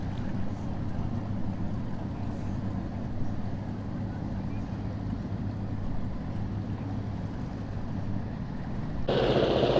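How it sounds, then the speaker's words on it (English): A boat motors back into its dock after refuelling, a steady low engine drone carrying beneath faint background noise, with a sudden louder, brighter burst near the end. "the boat we were watching earlier goes back into its dock"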